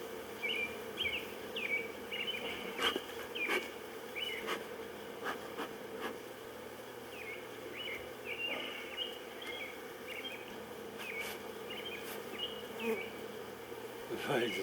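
Honey bees buzz around an opened hive during a first inspection, a steady close droning hum with individual bees zipping past, while birds chirp faintly in the background.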